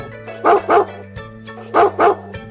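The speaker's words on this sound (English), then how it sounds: "D is for dog." A dog barks in two pairs of sharp, loud barks over a steady musical backing with a low repeating tone, as in a children's alphabet song.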